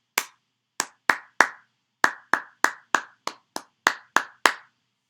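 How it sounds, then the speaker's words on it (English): Thirteen sharp hand claps in an uneven rhythm, some spaced apart and others quick in succession, close and clear against silence. "If I was to clap it, it would sound like this."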